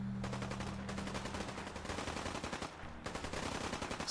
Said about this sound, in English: Okay, shooting again. There are always people fighting.